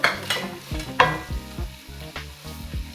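Garlic and onion sizzling in a hot pan while being stirred for ginisang monggo, a close crackling fry broken by sharp scraping clatters of a utensil against the pan.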